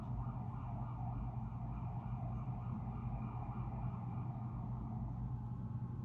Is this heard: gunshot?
no